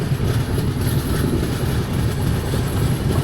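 The Amritsar Jaynagar Humsafar express rolls along with a loud, steady rumble heard from on board, a continuous rushing drone with faint rhythmic wheel noise.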